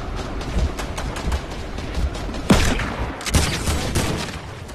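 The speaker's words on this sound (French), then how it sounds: "Putain, mon shoot à l'AK, les gars." Rapid AK rifle fire in a video game, with bursts of close, loud shots and two heavier blasts standing out partway through, with no talking over it.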